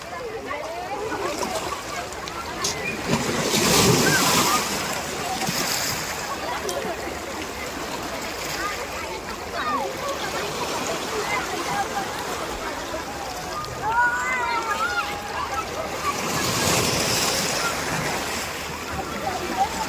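Sea waves rolling onto a beach at high tide, a steady broad wash of surf that swells louder twice as larger waves break, with faint voices in the background.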